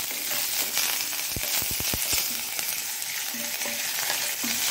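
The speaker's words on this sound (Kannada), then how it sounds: "ಮಸ್ಟರ್ಡ್ ಸೀಡ್ಸ್ ಸಾಸಿವೆ ಹಾಕೊಳ್ಳಿ, ಕರಿಬೇವಿನ ಸೊಪ್ಪು ಹಾಕೊಳ್ಳಿ." Mustard seeds and curry leaves sizzle in hot oil over a low flame, tempering for a Mangalorean raw banana sambar. A loud, steady hiss carries a quick cluster of sharp pops and crackles partway through.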